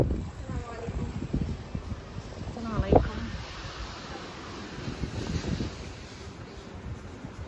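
Gusty outdoor wind on a trip to Egypt buffets the microphone in a steady rumbling roar, with a stronger gust near the middle, while voices talk faintly underneath.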